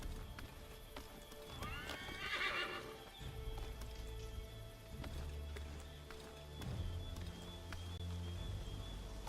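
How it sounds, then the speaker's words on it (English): In Assassin's Creed III Remastered, a horse whinnies loudly near the start while hooves pound in a steady galloping rhythm, with a low rumble of movement underneath. "Get back on the horse, Connor."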